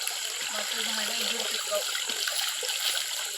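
Water from an electric pump runs in a steady broadband rush, loud and continuous throughout, with a person talking briefly over it.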